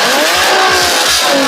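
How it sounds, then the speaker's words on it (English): A Nissan 370Z rear-wheel-drive sports car with its VQ engine roars and revs hard, the rasping exhaust note rising and sweeping in pitch in a short, loud burst with no talk. "The 370Z is a powerful rear-wheel drive sports car famous for its VQ roar."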